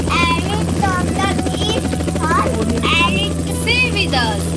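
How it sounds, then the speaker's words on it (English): A landing helicopter gives a steady, loud rotor drone that lasts throughout, with people talking over it. "It's landing here. What is it? a helicopter."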